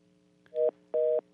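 Telephone line tones on a radio call-in show: two short steady electronic beeps over a low constant hum, the second beep longer, with no voices.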